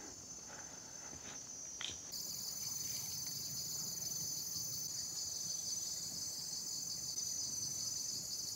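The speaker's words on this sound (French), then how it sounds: "Ce qu'on entend surtout, c'est le bruit des insectes." Insects chirp in a steady, dense high-pitched drone near a pagoda in Phayao, Thailand, continuous and fairly loud throughout, with faint distant traffic underneath and a brief soft knock early on.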